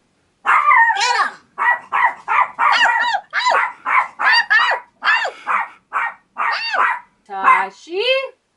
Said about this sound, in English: Tashi caught someone at the door. Who's a good guard dog?